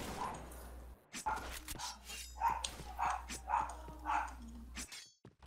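A dog with an injured paw gives a series of short, evenly spaced yelping cries near the microphone, about five in a row, with quiet background noise and brief talk around them.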